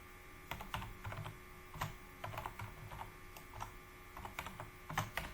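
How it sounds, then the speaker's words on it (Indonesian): Commands typed on a computer keyboard while configuring a Cisco networking device through its console: quiet, irregular key clicks in uneven bursts, with no talking. "kita ketik perintahnya seperti ini"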